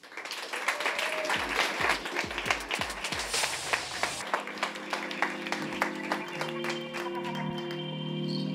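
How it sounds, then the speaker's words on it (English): Applause from the audience at the SCALE18 conference held aboard a boat, a dense burst of many hands clapping that fades after about four seconds into scattered claps and background chatter. "So please give an applause to Mateos Mihalik, co-founder of Claneo."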